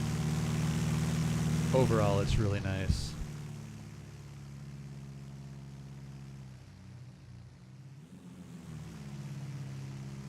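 A propeller airplane drones steadily in the X-Plane 11 flight simulator over Alaska, a low engine hum that carries on under casual talk, with a brief warbling tone near the start.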